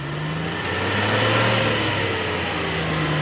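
A Suzuki Ravi engine running on CNG, smoking heavily and hard to start, is revved continuously up close, a loud, steady mid-pitched drone that swells slightly and holds without a break.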